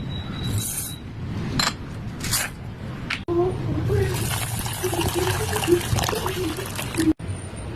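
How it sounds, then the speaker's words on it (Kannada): Water streams steadily into a bowl of washed lentils set to soak overnight for protein-rich dosa batter, a continuous close pour with light splashing and a few kitchen knocks. "ಇವಾಗ ಇದಕ್ಕೆ ನೀರು ಹಾಕಿ ಓವರ್ ನೈಟು ನೆನೆಯಾಕ್ಬಿಡಿ"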